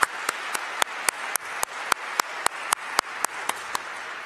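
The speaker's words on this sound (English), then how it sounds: "Would you please join me in giving both of our speakers a round of applause?" Clapping at a worldview forum for the two speakers sounds thin and near, with regular sharp claps standing out over a soft wash of applause, suggesting a small audience.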